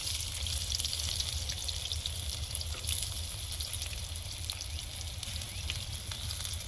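Chopped onion frying in hot oil in a home kitchen, a steady broadband sizzle that holds evenly throughout with no pauses, close and fairly loud, and no voices over it.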